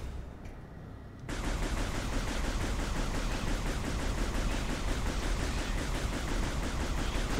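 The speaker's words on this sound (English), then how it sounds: "Can you stop shooting me?" Sustained rapid-fire gunfire in Metroid Prime 3: Corruption bursts in after a brief quieter moment, then pounds on continuously and loudly as a dense, unbroken volley to the end.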